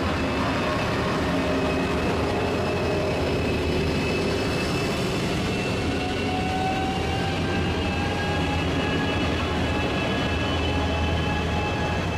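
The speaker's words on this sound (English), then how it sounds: "Surfliner train 573 makes its way northbound to Los Angeles as soon as my train arrived." An Amtrak Pacific Surfliner passenger train, number 573, pulls out northbound toward Los Angeles from San Diego's Santa Fe Depot, a loud steady rumble with faint squealing tones throughout and no voices.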